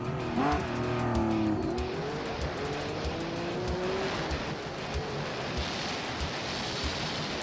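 A Porsche 911 RSR race car on wide tires drives past, its engine note rising and falling through gear changes, loud and close at first, then fading into road and tire rush.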